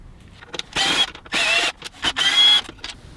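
Short bursts of a power driver running T25 shoulderless screws into a BMW R1250GS, three or four whirring spurts of about half a second each, close and fairly loud, with quiet clicks between.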